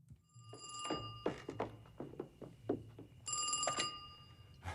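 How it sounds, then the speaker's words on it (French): Telephone ringing in the film Lethal Weapon: two bursts of an electronic bell ring, near and clear, with scattered thuds and movement between them. "il reçoit un coup de téléphone"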